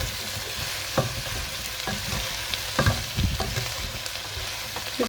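Vegetables being stirred in a cooking pot, with carrots, button mushrooms and parsley, while preparing beef bourguignon. Intermittent scraping and clinking of the spoon rise from a steady low sizzle, close and moderately loud, with no talking.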